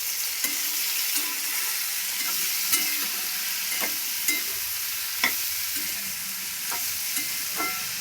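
Ivy gourd being stirred with garlic and salt in a hot pan: steady frying sizzle with repeated scraping spoon strokes against the metal, close and continuous, with no voices.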